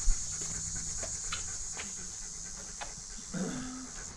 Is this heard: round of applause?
no